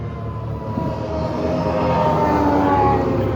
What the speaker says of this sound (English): Sorry for the noise, for the traffic noise